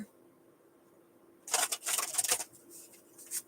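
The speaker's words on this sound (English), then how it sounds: "That was a terrible shuffle." A deck of psychic reading cards is shuffled in one quick, crisp burst of riffling lasting about a second, close and clear in an otherwise quiet room, followed by a few faint card taps.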